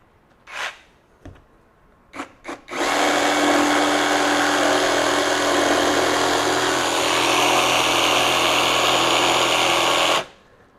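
A RIDGID R86344 18V brushless jigsaw cutting 3/4-inch-thick pine board, a few short trigger bursts and then a loud, steady, buzzing cut lasting about eight seconds before stopping abruptly, close up and with no talking.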